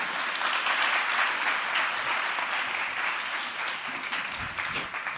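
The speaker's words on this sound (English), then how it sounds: "another big round of applause, please" Audience clapping at a WordPress WordCamp Europe 2023 conference session, a dense, steady round of applause filling the room throughout, with no voices on top.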